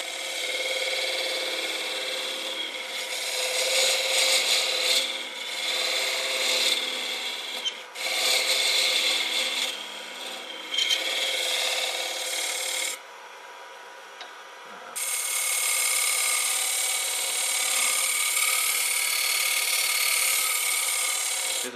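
A skew chisel point cuts into wood spinning on a lathe while a hollow egg is turned and parted off. It makes a loud, steady rasping scrape in long passes, with a few short breaks and a quieter stretch near the end before the cutting resumes.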